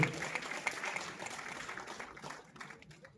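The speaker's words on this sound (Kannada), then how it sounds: "ಒಂದ್ಸರಿ ಜೋರಾಗಿರೋ ಚಪ್ಪಾಳೆ ಕೊಟ್ಟು ವೇದಿಕೆ ಮೇಲೆ ಸ್ವಾಗತ ಮಾಡುವಂತಹ ಒಂದು" An audience claps to welcome a guest onto the stage at a Kannada film's audio release ceremony, the applause quiet and distant and thinning out over a few seconds.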